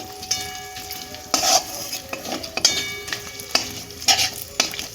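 Whole garam masala spices crackle in hot mustard oil while a metal spatula scrapes and taps the pan in irregular strokes, a close sizzle under sharp clinks and bright ringing knocks.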